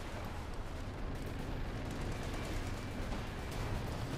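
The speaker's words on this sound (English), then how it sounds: "There goes Saxon artillery." Continuous dense rumble of artillery fire in Company of Heroes 2, a World War II tank battle with Panthers and a Crocodile, heavy booms blending into a constant low roar without talk.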